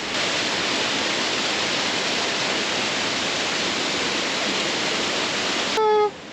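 Steady, dense rushing of a waterfall pouring continuously, loud and close, with a brief higher tone near the end, on Imogene Pass.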